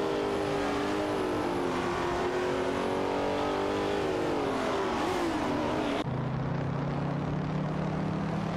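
A Porsche 908/2 Spider race car in a racing video game drives past at high revs, its engine note rising and falling through gear changes before settling into a lower, steadier drone.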